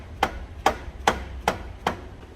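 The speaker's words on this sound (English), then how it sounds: "We got a little rubber mallet to come tap it down into the spacers." A rubber mallet taps an alternator down into its spacers on a 2005 Chevrolet Silverado 2500 with the 6.0 engine, giving five evenly spaced, close, dull knocks.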